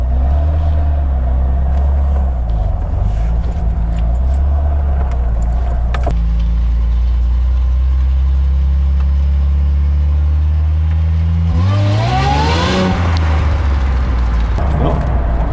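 A Ford Thunderbird with independent rear suspension rolls and accelerates for a wheel hop test, its loud, steady engine drone rising into a sweeping rev near the end.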